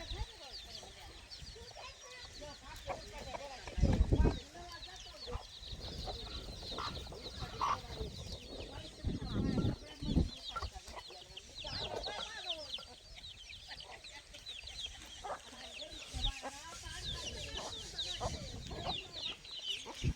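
Free-range native village hens cluck and murmur nearby, joined by chicks peeping in a busy farmyard chorus, with occasional louder squawks and a faint voice now and then.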